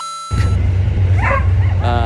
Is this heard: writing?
no